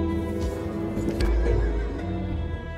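A horse ridden by OJ in a film gives a loud, close whinny that rises and fades over a dense background rumble, with no talk.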